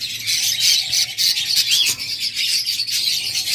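Caged pet birds such as lovebirds and budgerigars chirp continuously at a bird market. Dense, overlapping high tweets come close and loud, with no talking.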